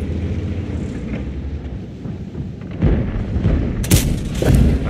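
Tank cannon fire and battle noise in World of Tanks, heavy booms and sharp cracks landing in the second half over a low rumbling engine bed, loud and close.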